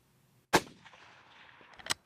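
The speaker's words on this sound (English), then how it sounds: "So now it's back to shooting at a 3D target with an 8-inch circle on the back side of it" A single loud rifle shot fired at a 3D target cracks out sharply and then echoes away, followed by a second fainter report near the end.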